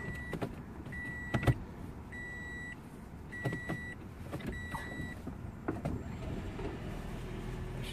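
Toyota Prius c being started, heard as a series of faint, repeated electronic beeps and chimes with soft clicks over quiet cabin background noise, without talking.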